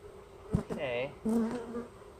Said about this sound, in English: Maybe I'll knock these bees in here though first, just to take down the congestion of the other hive.